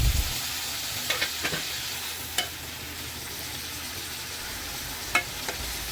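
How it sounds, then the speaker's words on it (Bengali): Prawns fry in hot oil in a pan with a soft, continuous sizzle, broken by a few light clicks and scrapes of stirring, fairly quiet and close, with no talking. "অনেকগুলো চিংড়ি মাছ, তাই আমি দুইবারে ভেজে নিলাম।"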